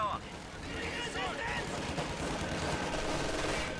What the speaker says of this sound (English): MG42 is making its way this area.